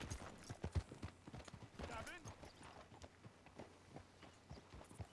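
Horse hooves clip-clop in the Red Dead Redemption 2 video game, a fairly quick rhythmic series of moderately loud hoofbeats under game sound and voices.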